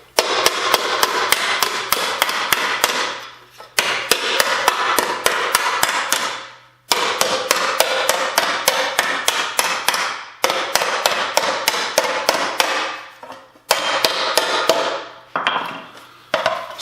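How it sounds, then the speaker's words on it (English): A mallet pounds the edge of an aluminum sheet on a wooden stump to shrink it, producing rapid, loud, ringing blows in long runs of dozens of strikes with brief pauses between runs. "Now we take those tucks out by using the blunt end of a mallet on a flat surface."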